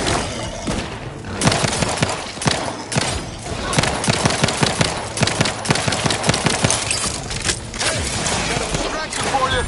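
Cockpit guns firing in a video game, heard as dense, loud, continuous rapid bursts layered with crashing impacts and a voice shouting over the barrage.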